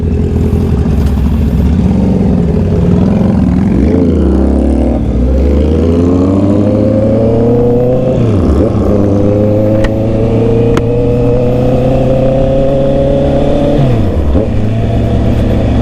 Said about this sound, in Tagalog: Ganda ng rumble nung bike niya.